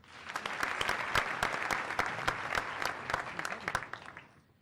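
Audience applause greets the two finalists at a debate final between Burkina Faso and Chad, a dense crowd of clapping hands with distinct sharp claps, building quickly, holding steady, then fading away at the end.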